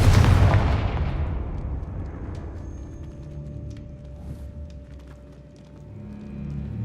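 A Confringo explosion spell in the video game Hogwarts Legacy lands with a single loud deep boom, followed by a long rumbling decay and scattered crackling debris fading out.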